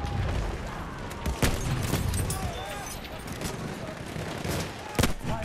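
Battlefield 1 multiplayer gunfire, sharp shots and bursts of machine-gun fire with big booms standing out near 1.4 and 5 seconds, all over a steady roar of battle.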